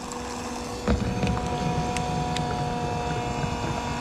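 An electric diesel transfer pump runs steadily on a Vevor 58-gallon tank, giving a continuous mechanical hum with a slight bump as flow picks up. It stays at an even level and no one speaks.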